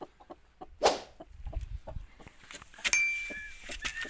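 An İspenç hen clucks softly in a farmyard coop while partridge chicks peep around her, with one sharp nearby cry and scattered short calls over faint background rustling.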